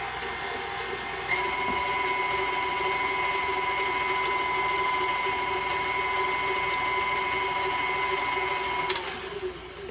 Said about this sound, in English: I use a whisk attachment for my dyes